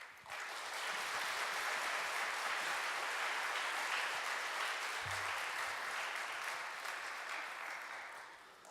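A church congregation at an afternoon service gives loud, continuous applause lasting about eight seconds to welcome Professor Park Myung-soo, dense and even throughout before easing slightly at the end.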